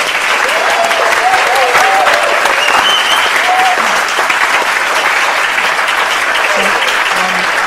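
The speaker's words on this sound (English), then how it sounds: "So maybe we could give a round of applause" Loud, sustained audience applause for a panel at the close of a discussion session, an even roar of many hands clapping with occasional voices calling out over it.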